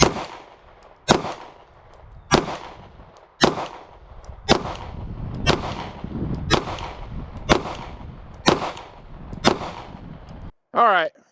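Ten sharp, loud gunshots crack out one after another about a second apart, each with a ringing decay, fired at a target with a CVLife WolfCovert mini green dot sight; a short clang follows at the end.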